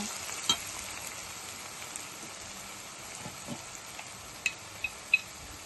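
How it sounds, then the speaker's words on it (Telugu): Tomatoes and onions cook down in a pan for a dhaba-style cauliflower curry, a quiet rain-like steady sizzle with a few sharp spoon clicks near the end. "ఇలా వేపుకోవాలి. టమాటా, ఉల్లిపాయలు ఇలాగ చక్కగా మగ్గిపోవాలి."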